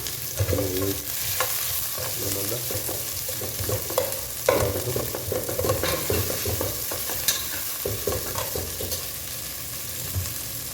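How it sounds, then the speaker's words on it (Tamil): Onions frying in oil for beef biryani, a continuous sizzle with repeated stirring scrapes and clatters of a spoon against the pan, close and steady. "வெங்காயம் கொஞ்சம் நல்லா ப்ரௌன் ஆகட்டும்"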